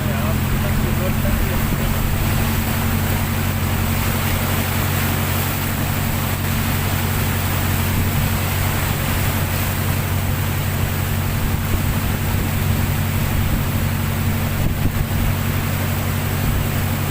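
Floodwater rushing in Sisaket, Thailand, a steady broadband roar of water with a low constant hum beneath, loud and unbroken throughout, with voices faintly present.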